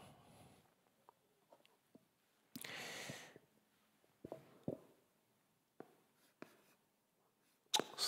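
Chalk writing on a blackboard during a church camp evangelism school lecture, heard as sparse faint taps and short scratchy strokes with a longer scraping stretch, in a quiet room with no talking.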